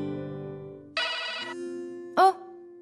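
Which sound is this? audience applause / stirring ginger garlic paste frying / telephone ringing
telephone ringing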